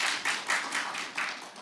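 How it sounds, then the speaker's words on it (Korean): Clapping from a small group at a church education session, a few close, bright claps in an uneven rhythm over a short burst, with no voices. "누가 박수를 시작했는지 반갑습니다"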